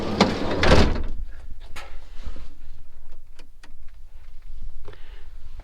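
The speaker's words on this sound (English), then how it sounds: "close the door" The sliding side door of a Renault Trafic van slams shut with one loud heavy thud near the start. Faint clicks and quiet rustling inside the closed van follow.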